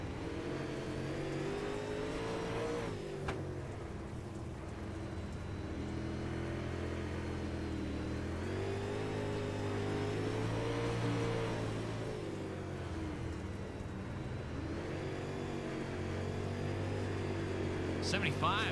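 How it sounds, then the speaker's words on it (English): Race cars under green flag racing at a track drone steadily, with engine notes swelling and fading as throttle rises and falls over many seconds, all under a continuous commentator voice talking throughout. "Listen to that throttle too, man."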